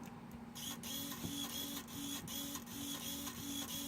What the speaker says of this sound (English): Hear that? That's the servo working